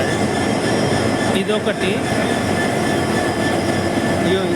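A train stands in Goa while extra locomotive engines are coupled on, giving a steady loud rail rumble and mechanical hum throughout, with a person briefly speaking over it.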